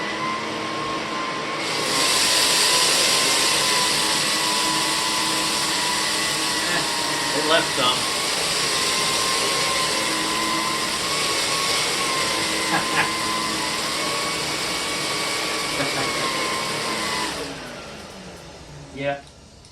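An Electrolux PN4 power nozzle vacuum runs with a steady, loud motor whine throughout, while loose debris rattles inside it in a few short bursts. A brief spoken remark is heard near the end.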